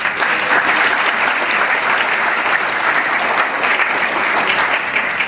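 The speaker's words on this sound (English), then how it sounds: "A little applause for them." Steady, dense applause from a large conference audience at a government acquisition event's closing session, loud and continuous throughout without a break.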